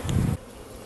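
Honey bees buzz close by at an open hive, a loud, dense hum that cuts off abruptly after a third of a second, leaving faint background.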